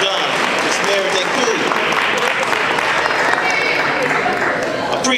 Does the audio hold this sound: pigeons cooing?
no